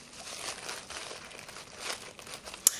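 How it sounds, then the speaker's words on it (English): Plastic bag holding pre-measured dry pancake ingredients, gathered up and twisted shut, giving a soft continuous crinkling with one brief sharper rustle near the end. "I just gather up the plastic bag and tie it with a little twist"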